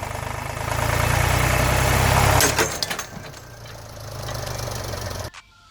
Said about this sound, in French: le démarrage du tracteur